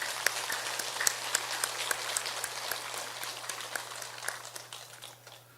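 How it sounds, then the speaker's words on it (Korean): A church congregation claps warmly: a moderate crowd of fairly close, distinct hand claps in an uneven patter that thins out slightly toward the end, with a low steady hum beneath. "우리 한번 뜨겁게 박수를 보내면 좋겠습니다"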